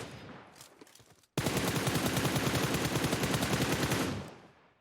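Automatic gunfire from an enemy player rattles out in a mobile battle royale match, a sudden loud continuous burst of rapid shots lasting about three seconds after quieter game noise, then fading out.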